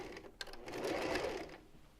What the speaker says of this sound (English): you're just going to stitch all the way around